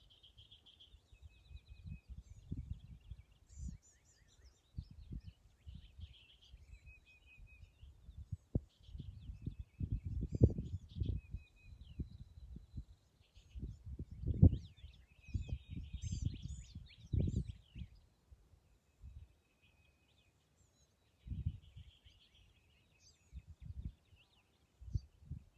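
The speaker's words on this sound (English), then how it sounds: "I heard those other birds, Christina." Birds sing outdoors in high, faint chirps and trills that come and go. Low, thumping handling and wind noise sits close to the microphone underneath.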